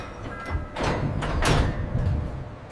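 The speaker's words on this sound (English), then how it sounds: "The steel door locks tight for the high-pressure cook." A heavy steel door on a sterilization vault in a grape juice factory closes and locks, a couple of loud metallic clunks and a sliding rumble close by in a reverberant industrial space.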